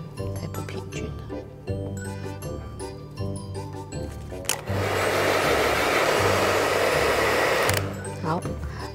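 A hair dryer drying acrylic paint on a DIY macaron pen holder blows in a steady, loud whoosh for about three seconds in the middle, preceded and followed by background music and light handling sounds.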